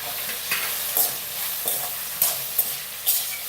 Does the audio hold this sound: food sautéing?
yes